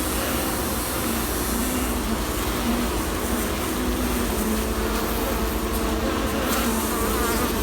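Honeybees buzz steadily on an opened hive frame during a hive split, a dense, continuous droning swarm close by with no voices.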